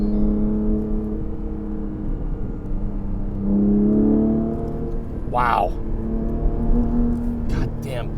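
A 2022 Porsche 718 Cayman GTS 4.0 in Sport Plus mode accelerates hard from inside the cabin, engine note rising in pitch, easing and climbing again, with a brief spoken exclamation partway through.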